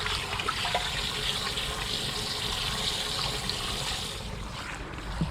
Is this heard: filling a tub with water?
yes